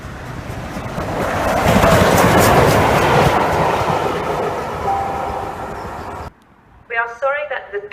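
Class 156 diesel unit 156413, on an East Midlands stopping service to Nottingham, rumbles loudly at a station for about six seconds with rising and fading clatter, then cuts off and a voice speaks briefly.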